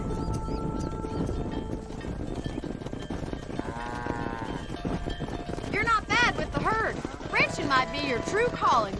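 A cattle herd lowing in the western video game Red Dead Redemption, with drawn-out moos rising over a busy bed of hoofbeats and rumbling game sound during a cattle drive.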